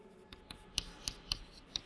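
Pen or chalk writing on a surface during a Class 6 maths lesson on octagons and rectangles: faint, soft taps and scratches in an irregular rhythm, close by and quiet, with no voices.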